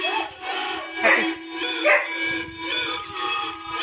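A Doberman Pinscher dog gives a few close, sharp barks and yips at a moderate level, spaced across a short stretch with brief quiet between them.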